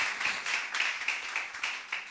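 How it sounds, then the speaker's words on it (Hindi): A congregation at a church gathering claps together for the Lord, a steady run of about eight sharp, evenly spaced claps, fairly close and unaccompanied by talk. "ताली बजाए प्रभु के लिए हम।"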